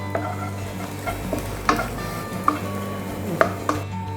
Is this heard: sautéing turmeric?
yes